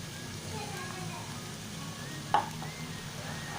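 Ground masala paste of coconut, sesame, cumin and coriander being stirred with cauliflower in a cooking pot, a steady low sizzle with soft scraping and one brief sharp clink near the end, no talking.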